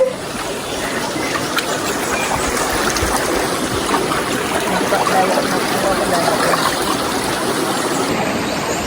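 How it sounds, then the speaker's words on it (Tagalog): A river flows in a steady, broad rush of water, a constant loud wash without breaks, with faint trickling detail under the dense hiss. "Dito kami ngayon sa ilog."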